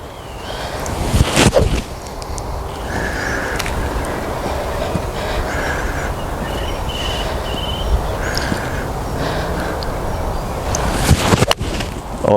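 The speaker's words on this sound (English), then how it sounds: "Bit of wind helping." Wind gusts across an open golf course, a rough broadband rush buffeting close and fairly loud, with stronger bursts near the start and end.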